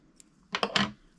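Scissors snip through folded silver flash strands at a fly-tying bench, giving a brief, close metallic cut with a small click just before it.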